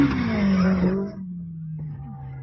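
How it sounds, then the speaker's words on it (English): An older model Toyota pickup truck accelerates hard through a deep mud pit on an off-road hill climb, its engine roaring loud and close. The roar drops sharply after a second and settles into a lower, steadier drone. "The older model Toyota pickup accelerated hard through a deep mud pit before attempting to climb a dirt hill."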